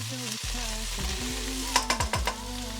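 Browned garlic sizzles in oil in a pan for a vegetarian pilau, a steady frying hiss with a few sharp stirring clacks near the end.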